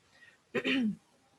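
A single short, throaty cough or throat-clear, close and brief, against a quiet background.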